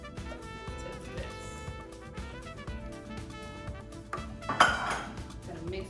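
A spoon or whisk stirs chocolate cheesecake batter in a bowl, scraping and clinking irregularly against the sides, fairly quiet, with a brighter metallic clink near the end.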